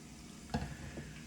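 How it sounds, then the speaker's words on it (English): Garlic sizzles in hot olive oil in a pan for an omelet, a quiet, steady frying hiss with a brief stirring clatter in the middle, heard close with no voices. "I just want the garlic to kind of come to a little bit of a sear to get some of this, the garlic smell and oils out of it."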